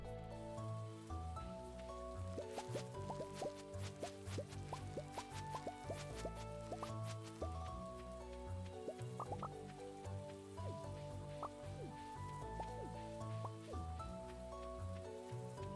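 Rain falls in the farming video game Stardew Valley. Soft pattering and dripping sound faintly and continuously over a quiet musical background.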